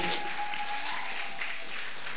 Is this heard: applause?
yes